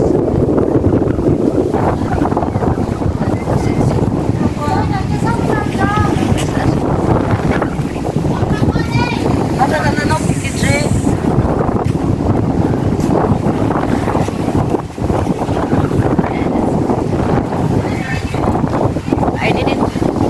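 Strong sea wind buffets the microphone at a seaside port, a loud continuous rumbling roar with gusts, while a person speaks intermittently over it.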